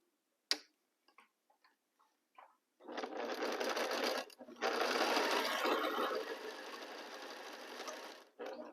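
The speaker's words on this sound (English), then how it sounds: "I begin sewing my first row using a 1/4 inch seam allowance." A sewing machine stitches the first row of a quilt with a quarter-inch seam: a few soft clicks, then two long, fast, steady stitching runs split by a short pause, close and fairly loud.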